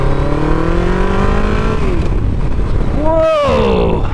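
A big-bore motorcycle, a Yamaha XJR 1200 or Suzuki GSX 1400, accelerates hard on an open road, its engine note climbing through the gears, cutting briefly on a shift, then rising again loudly under wind roar.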